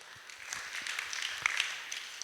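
A church congregation applauds during a Bible lesson, the clapping faint and distant, a steady scattered patter that never swells loudly.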